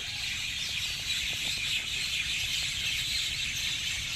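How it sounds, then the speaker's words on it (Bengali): Many birds chirp and twitter together in a bamboo clump in a village, a dense, continuous chorus of overlapping high calls over a low background rumble, with no talking. "এত পাখির কিচিরমিচির"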